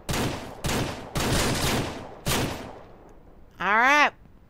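Gunfire in the Ranch Simulator video game during a bear hunt: four loud, sustained bursts of shots separated by short gaps, followed by a brief rising whistle-like tone at the end.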